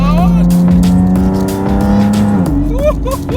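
A Nissan 370Z sports car on winding roads after a subframe replacement, engine note rising and falling with tires squealing through a corner, loud and close under excited talk inside the car.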